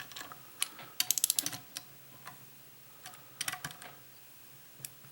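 A ratchet snugs camshaft bolts on a 1994 Saab 9000 cylinder head, giving short bursts of quick, crisp clicks separated by pauses, close and fairly quiet.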